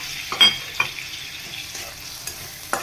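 A few sharp scrapes of a spoon stirring frying ingredients in a pan for Bengali egg curry, set against a faint background sizzle.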